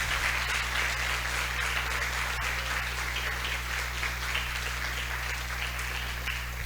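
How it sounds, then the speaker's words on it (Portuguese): An audience applauds a professor at the official opening of a scientific initiation conference, a steady wash of clapping throughout over a low constant hum, no voices standing out. "nós convidamos a todos a saudar a professora com uma salva de palmas, por favor"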